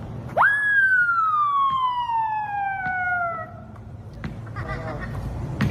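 Ambulance siren in a video game, a single loud rising then slowly falling wail heard close and clear, followed by brief clicks and faint background noise.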